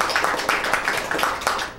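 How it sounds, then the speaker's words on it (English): A small audience at a guitar show in a music shop claps after a performance, a short burst of fairly faint, scattered hand claps with a loose rhythm. "A round of applause"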